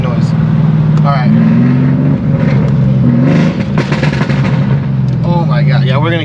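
Exhaust burbles and pops from a Mercedes CLS63 AMG with a stage 2 tune, a loud close rumble with crackling bursts, wind noise and voices talking over it.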